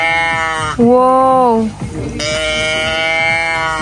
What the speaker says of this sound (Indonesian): Suara sapi.